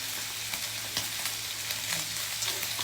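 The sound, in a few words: garlic frying in a pan with pork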